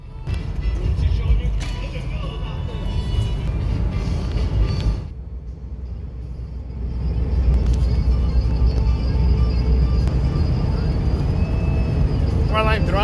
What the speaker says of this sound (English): While I'm driving and it's a big noise from the wind